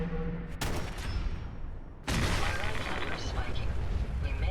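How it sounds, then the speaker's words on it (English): Gunfire in Fallout 4's Automatron add-on as robots are shot off an assembly line, a dense, loud barrage of booming shots that swells sharply partway through, with a voice speaking over it. "To avoid being swarmed, I began shooting robots off the assembly line one at a time."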